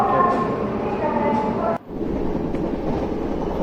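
Steady rumble and clatter of the Palasa Express running, heard from inside a sleeper coach, with a brief dip in the noise partway through and people talking faintly under the constant train din.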